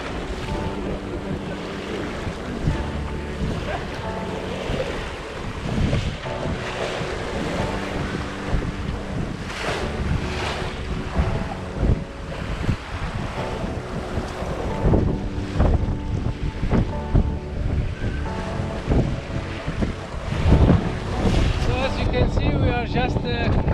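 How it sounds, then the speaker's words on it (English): Strong wind buffeting a sailboat on the Baltic Sea near Kiel, a steady roaring rush of gusts and wave wash with microphone wind rumble throughout, loud and close, with no clear voices. "as you can see today we have a good wind"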